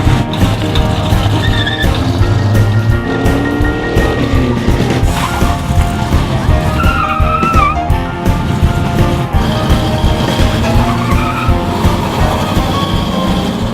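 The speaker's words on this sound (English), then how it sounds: "All the cars are getting ready to exit the parking lot" Several classic car engines idle and rev nearby at a car cruise, with cars rolling out of a parking lot and tires squealing briefly, a loud continuous motor rumble throughout.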